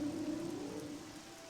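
Steady rain falls in the town of Balmora in the video game Morrowind, a constant soft hiss with a faint low tonal hum underneath, fairly quiet and unbroken throughout.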